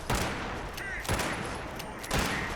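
Plasma weapon gunfire in the video game Fallout 76: three bursts of sharp, crackling energy shots spaced about a second apart over a steady background rumble, loud and close.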